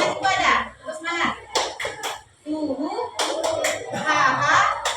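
Schoolchildren in a classroom performing a rhythmic spirit clap, bursts of patterned hand claps interspersed with chanted voices, a teacher leading them.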